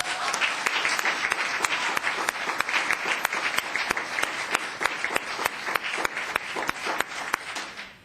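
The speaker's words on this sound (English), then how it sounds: "A round of applause." Steady applause from the audience at a February 2013 town council meeting, a dense, even patter of many hands with sharp individual claps standing out, lasting about eight seconds at moderate volume without speech.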